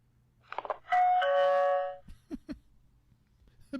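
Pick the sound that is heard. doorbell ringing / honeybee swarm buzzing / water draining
doorbell ringing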